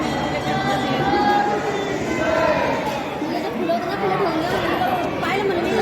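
A dense crowd at the Mhasobha Maharaj yatra fair in Sillod keeps up a steady, loud wash of overlapping chatter with no pause or break.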